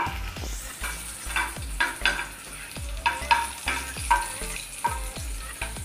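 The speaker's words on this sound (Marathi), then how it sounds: "आपलं तेल चांगलं गरम झालेलं आहे. तर आता आपण ह्याच्यामध्ये लसूण घालून घेऊया" Garlic fries in hot oil with a steady, close crackling sizzle, punctuated by a regular series of sharp spatula taps and scrapes against the pan, no one speaking.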